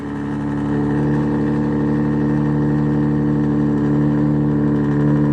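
A car engine runs close by with a loud, steady droning hum that swells slightly in the first second and then holds level, with no voices.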